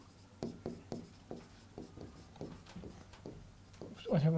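A teacher writes on a classroom board in a sequence of crisp, evenly spaced taps and strokes, close and fairly quiet, with a voice breaking in at the very end.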